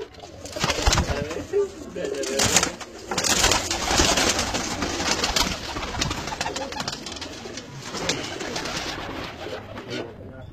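Pigeons kept by a fancier in Pakistan's Punjab coo steadily and close by, layered with other bird calls and flutter, while people talk intermittently underneath.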